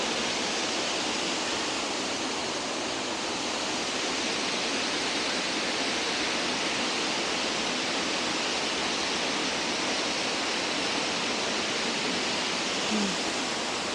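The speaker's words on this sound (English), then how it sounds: "Really nice water flow there." Steady broadband rush of a waterfall seen from an upper observation area in Maggie Valley, loud and continuous throughout with no talk over it.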